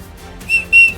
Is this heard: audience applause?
no